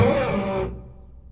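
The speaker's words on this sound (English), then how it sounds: "Now if I do that same thing and I speed it up," A quick, rough low double bass string scrape, bowed fast, rasps for just over half a second, then stops abruptly, leaving a soft low resonance.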